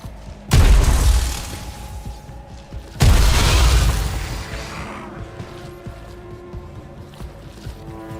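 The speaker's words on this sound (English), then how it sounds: "Dude, who gave them all these smoke bombs?" Two loud, deep smoke bomb blasts go off in the video game Rogue Trader Warhammer 40k, a few seconds apart, each followed by a long hissing decay over a soft background music tone.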